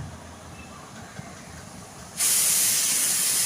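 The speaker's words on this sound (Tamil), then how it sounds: "மீன்வைல் விசிலும் வந்துடுச்சு, அந்த ஒரு விசிலும் வந்துடுச்சு" A pressure cooker on high flame on a kitchen stove lets out its whistle, a sudden loud, sustained hiss of escaping steam that starts abruptly after a quiet moment and holds steady to the end.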